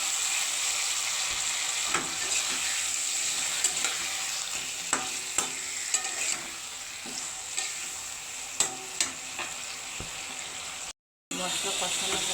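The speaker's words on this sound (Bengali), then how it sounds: "তো মশলাটা ভালো করে কষিয়ে নেব।" Spice paste and fish sauté in a pan with a continuous sizzle, punctuated by sharp scrapes and taps of a stirring spoon, close and steady throughout.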